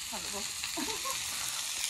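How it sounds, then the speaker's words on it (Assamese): Banana flower frying in a pan in an Assamese village kitchen gives a soft, steady sizzle, with faint tonal sounds briefly rising above the crackle. "কলডিল ভাজি"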